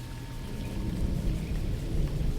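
Steady rain falling with low, rolling thunder rumbling underneath, a dense continuous wash of drops at moderate loudness with no voices.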